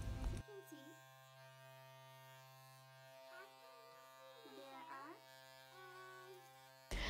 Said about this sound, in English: For the final shaping of bottom hairs and edges, I will use a trimmer without any comb.